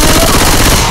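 Dense, loud gunfire from the shooter video game S.T.A.L.K.E.R. 2, a rapid continuous burst filling the whole second with no gaps.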